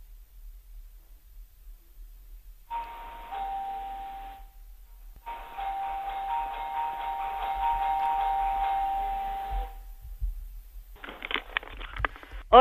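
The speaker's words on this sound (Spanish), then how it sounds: "abra usted la puerta de su casa y toque el timbre de la casa" A house doorbell rings in three separate bursts of steady electronic tone, the middle one longest, heard over a phone line against low background noise.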